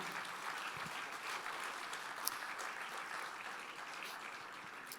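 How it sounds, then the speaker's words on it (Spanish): Church congregation clapping in praise during a service, steady and moderately distant applause lasting throughout with no clear talk over it. "Fuerte ese aplauso de alabanza al Señor."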